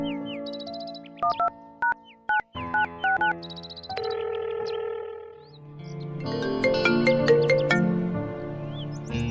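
An electronic phone ringtone plays a melodic pattern of repeated bright tones, broken into short bursts at first and then a denser, louder stretch of continuous chiming.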